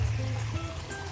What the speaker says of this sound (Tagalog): Malakas yung agos ng irrigation ngayon.